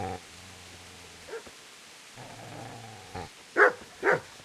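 A dog in Kingdom Come: Deliverance growls low and steadily, then breaks into a few sharp, loud barks near the end, close by and with no other sounds around it.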